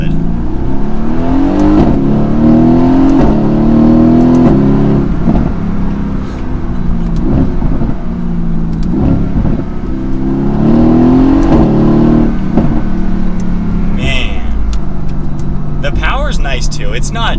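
A 2016 Mercedes-AMG GT S V8 in Sport Plus manual mode roars loudly on the move, with rising revs, gear changes and throttle surges, and crackling pops toward the end, heard close from inside the car.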